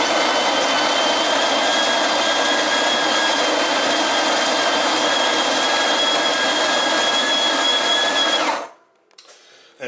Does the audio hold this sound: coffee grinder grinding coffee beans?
yes